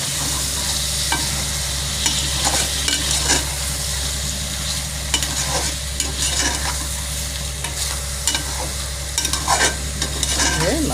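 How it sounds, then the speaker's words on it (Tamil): Brinjal sautéing in a spiced masala for brinjal rice, a steady close sizzle with repeated scraping stirs of a spoon against the pan throughout, no voices. "மசாலாவில் கொஞ்சம் கத்திரிக்காய் வதங்கட்டும்."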